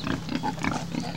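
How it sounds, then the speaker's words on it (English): Pigs on a farm grunt continuously in a steady, rhythmic chorus of low snorts, close and moderately loud, with no talk over them. "A lot of pigs."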